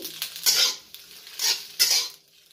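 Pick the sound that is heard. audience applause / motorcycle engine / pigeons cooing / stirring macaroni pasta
stirring macaroni pasta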